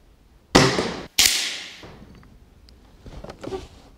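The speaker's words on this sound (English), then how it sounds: "I'm shooting at 25 meters, 5 shots, and I'm using RWS Superdomes" A Weihrauch HW77 K underlever air rifle fires RWS Superdome pellets at 25 metres, giving two sharp, loud cracks about half a second apart, each followed by a short fading ring, then quieter handling clicks.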